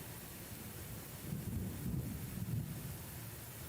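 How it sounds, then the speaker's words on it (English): Thunderstorm rumble in the Civil War strategy game Grand Tactician, a low continuous roll of thunder swelling in the middle amid rain-like hiss, faint and distant with no voices. "this thunderstorm cramping my style. I don't like to hear lightning and thunder in the middle of a battle"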